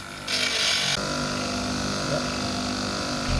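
A power tool grinds a chamfer around the edge of a bolt held at a 45-degree angle while fitting a hydraulic handbrake on a Nissan S13, a brief loud whir at the start, then a steady mechanical hum.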